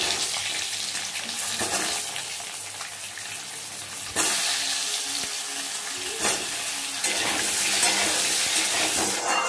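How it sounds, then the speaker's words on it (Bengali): Eggs fry in hot oil in a wok for egg biryani, a steady close sizzle with occasional louder bursts and crackles as they hit and settle in the oil. "ডিমগুলো ভেজে নেব।"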